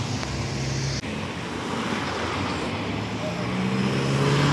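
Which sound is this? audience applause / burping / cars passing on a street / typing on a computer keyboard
cars passing on a street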